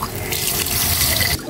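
Water pours or fills a container in a home kitchen, a steady close splashing and gurgling that cuts off briefly near the end before resuming.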